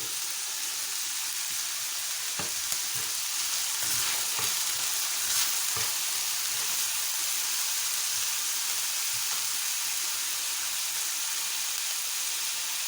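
Tomatoes and chicken fry in a pan: a steady, close sizzle with a few soft clicks and stirring scrapes throughout, and no voices.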